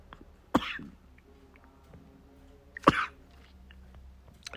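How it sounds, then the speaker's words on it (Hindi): A man coughs twice, two sharp, close bursts a couple of seconds apart, against a quiet indoor room. "खांसी आ गई।"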